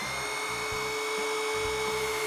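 A power drill called the Widowmaker, rigged to drive a car engine's oil pump to build oil pressure, runs with a continuous loud whine and a throbbing low-end pulse over a short stretch, no voices.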